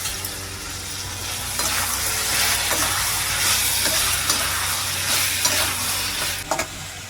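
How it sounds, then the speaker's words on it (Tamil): Brinjal pieces sautéing in hot oil for vegetable sambar: a steady, close sizzle with scraping stir strokes and a few sharper clinks of the spoon against the pan. "கத்திரிக்காய் எண்ணெயிலே போட்டு வதக்கி சாம்பார் வச்சா சூப்பராக இருக்கும் சாம்பார்"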